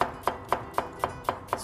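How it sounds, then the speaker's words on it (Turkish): A knife chops an onion finely on a cutting board in a steady rhythm, seven crisp, evenly spaced strikes close up with no talking. "Şöyle bir tane soğanımızı ince ince doğrayalım."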